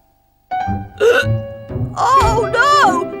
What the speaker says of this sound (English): Oh, no! Now I've got hiccups too.